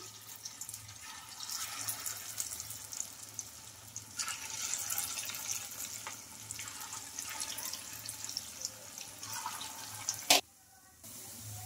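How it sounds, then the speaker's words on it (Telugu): Pea vadas sizzle steadily in hot oil as more are slipped in, a dense close bubbling hiss that breaks off abruptly near the end. "ఇంకా మిగిలిన వాటిని కూడా ఇంకా ఆయిల్లోకి అయితే వేసుకుంటున్నాను"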